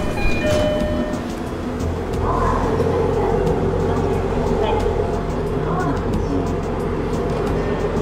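Inside a moving local train in Japan, a steady rumbling wheel-and-carriage drone fills the space, with a voice talking over it throughout.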